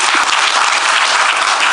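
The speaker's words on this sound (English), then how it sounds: "So we should clap for the women anyway." Loud, dense audience applause filling the room, steady and unbroken for the full short stretch with no voices over it.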